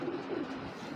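A racing Giribaz pigeon gives a low, soft cooing murmur, faint and close, continuous through the short moment without speech.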